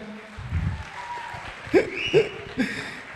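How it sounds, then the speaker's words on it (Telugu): An audience claps and cheers at a film event, a short burst of scattered applause with a few sharp claps rising above the crowd noise. "క్లాప్స్ కొట్టి వాళ్ళకి క్లాప్స్ అరే కొట్టండి గట్టిగా"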